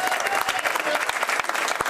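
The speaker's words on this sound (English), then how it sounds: "thank you very much for the applause" An audience at a 2018 St. Peter church auction applauds the associate pastor, with dense, steady clapping that fills the whole stretch at a fairly close, lively level.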